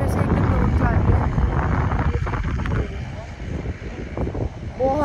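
Strong wind roars through a mountain valley beside a road. It comes as a loud, continuous low buffeting against the microphone that eases slightly partway through, with faint voices underneath.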